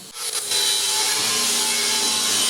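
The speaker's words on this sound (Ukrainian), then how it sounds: "Коли піч готова, шліфує її." Grinding a finished welded metal stove in a workshop, a sharp, bright abrasive whine that starts abruptly and holds steady and loud without speech.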